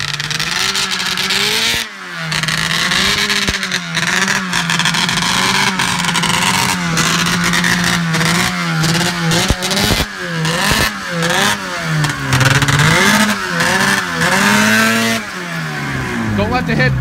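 Arctic Cat ZR440 snowmobile engine running loud and close on a test drive after a rebuild, bogging with uneven, wavering revs that rise and sag throughout, with people talking over it.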